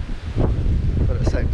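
Gusty wind buffeting the microphone at Wemyss Bay in the rain, a low rumbling roar with a few faint background sounds.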